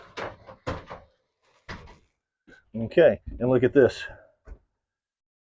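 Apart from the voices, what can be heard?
sliding closet doors opening in an RV toy hauler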